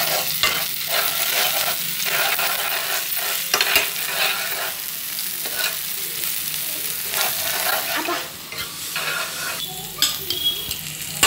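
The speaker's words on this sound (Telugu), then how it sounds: "అల్లం వెల్లిగడ్డ వేసుకొని వేయించేసుకోవాలి." Ginger-garlic paste frying in a pan for a brinjal and chana dal curry gives a close, continuous sizzle, broken by repeated bursts of stirring against the pan, with no talking.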